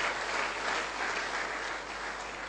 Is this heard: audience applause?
yes